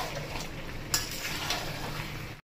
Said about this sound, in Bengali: এবার এখন কাজ হচ্ছে শুধু কষানো